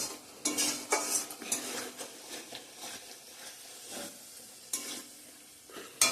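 Chicken curry masala with ground cumin and coriander being sautéed in a pan: soft continuous sizzling broken by several sharp scrapes and clinks of a spoon stirring against the metal, close and fairly quiet.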